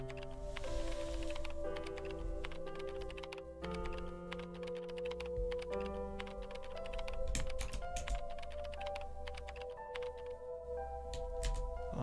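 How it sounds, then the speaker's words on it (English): Rapid keyboard-style typing clicks from the Higurashi visual novel play in dense, continuous bursts over a sustained bed of layered tonal background music, steady and fairly loud throughout with no speech. "Like the sounds of the typing that would never go away when I was trying to reread."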